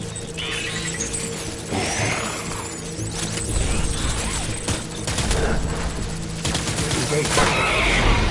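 Dense video-game gunfire in Death Stranding, repeated bursts and rattling volleys with mechanical clatter over about eight seconds, loud and sustained, building toward the end.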